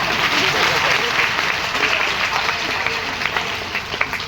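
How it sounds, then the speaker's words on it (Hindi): Audience clapping at a spiritual gathering in Mount Abu, a steady dense wash of applause with talk running over it throughout. "आप ताली बजाओ, इनकी पावर करो।"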